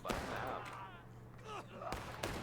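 Scattered rifle shots ring out in a Civil War video game battle, a few sharp cracks, one louder near the end, under continuous shouting and talking from players.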